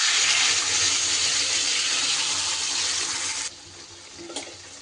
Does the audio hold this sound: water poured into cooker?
yes